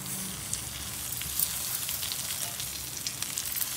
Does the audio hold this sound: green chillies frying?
yes